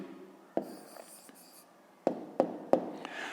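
A pen writing an answer on paper, faint scratchy strokes punctuated by a few sharp taps as the nib strikes the page, close and quiet.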